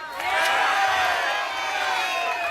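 A stadium crowd at the World's Strongest Man 2017 strongman competition swells into loud, sustained cheering and whooping, staying strong to the end.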